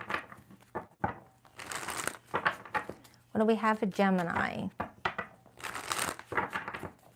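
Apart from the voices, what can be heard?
tarot cards being shuffled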